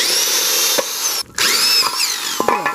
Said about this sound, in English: I'm going to drill those out.